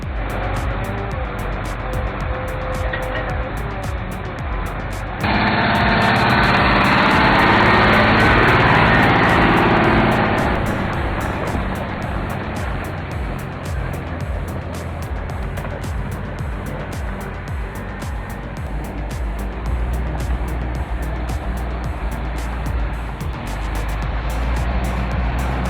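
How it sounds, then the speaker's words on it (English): A 33-ton 6x4 timber truck with an integrated crane climbs a steep slope out of a forest, its engine droning loudly and steadily throughout, swelling under heavier load for a few seconds early on. "Now it's ready to drive its 6x4 chassis up the steep climb out of the forest."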